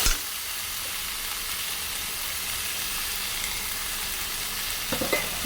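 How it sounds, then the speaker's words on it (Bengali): Spice masala with turmeric and Kashmiri chilli fries in oil for a katla fish curry with potato and brinjal, producing a loud, even hiss of sizzling throughout, with a couple of stirring knocks near the end. "ভালো করে মশলা কষিয়ে নেব"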